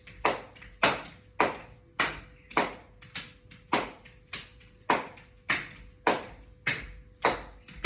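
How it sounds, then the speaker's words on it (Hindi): Hands clap in a steady, even rhythm to a children's rhyme, about a dozen crisp, close claps spaced just over half a second apart, with a faint steady hum underneath and no talking. "जब हम खुश होते हैं तो तालियां बजाएं"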